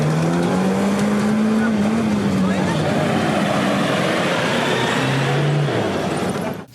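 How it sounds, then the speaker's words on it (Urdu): Off-road rally jeeps racing on a dirt track, a loud continuous roar of engines revving and rising in pitch as vehicles pass close by, with a voice talking over the noise. "3 روزہ ڈیرہ جات of road challenge jeep rally"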